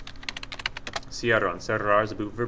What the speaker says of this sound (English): Sorry for the typing noise